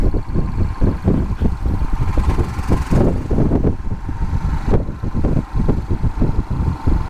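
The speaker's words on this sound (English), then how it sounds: "The engine's got a nice goody little rumble about it." A motorcycle engine rumbles at night, a loud, close, throbbing low-pitched drone with rapid rhythmic pulses and slight swells in intensity, heard alone without talk.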